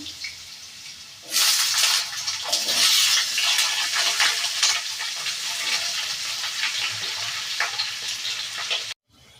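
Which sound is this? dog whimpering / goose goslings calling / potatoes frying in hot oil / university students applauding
potatoes frying in hot oil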